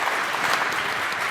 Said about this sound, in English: a big applause from you